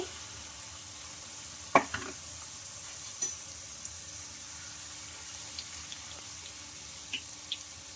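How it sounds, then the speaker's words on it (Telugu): Tomato chips fry in oil while being stirred, giving a faint steady sizzle broken by a few sharp scrapes and clinks of the utensil against the pan. "వీటిని బాగా క్రిస్పీగా ఫ్రై చేసుకోవాలి ఇట్లా తిప్పుతూ బాగా కాల్చుకోవాలి"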